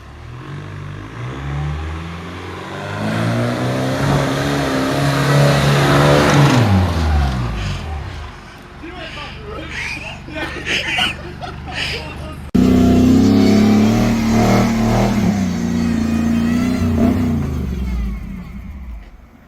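A car engine with a poorly running carburetor revs up and down unevenly, loud and near, with rising and falling pitch sweeps and a sudden jump in level, and voices talk over it.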